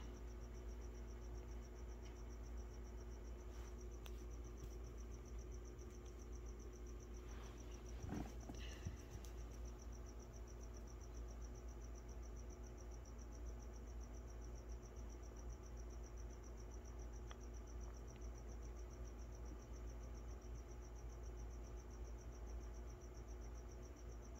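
Crickets chirp faintly and steadily inside an indoor iguana enclosure, a thin continuous trill over low room hum, with a brief rustle partway through.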